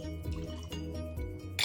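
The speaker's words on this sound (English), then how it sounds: "4 dashes of orange bitters and 4 dashes of regular bitters onto your ice." Bitters dashed onto ice in a cocktail glass while mixing an Old Fashioned, giving a few small drips and light clinks of ice and glass heard up close.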